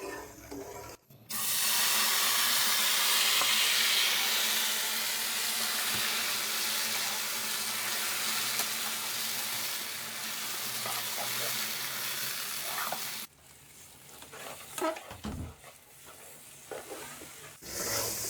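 Soaked semolina added to makhandi halwa and stirred while frying in the pan, a loud, even rush of hissing sizzle for most of the stretch, then quieter with intermittent spoon scrapes and clinks near the end.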